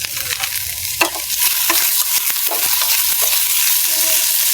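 Chopped garlic and ginger with green chillies frying in hot oil while being stirred, a loud close steady sizzle with repeated scraping strokes of the spoon through the pan.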